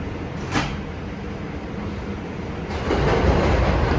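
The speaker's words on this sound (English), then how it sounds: "Stand clear of the closing doors, please." Inside a New York R142 6 local subway train in the Bronx, a short clack and hiss of doors closing sounds over a steady rumble that grows louder as the train gets moving.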